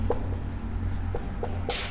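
Marker or chalk scratching on a board during a Sanskrit grammar lesson, a few short strokes and taps close by against a steady low room hum, ending in a brief louder scrape.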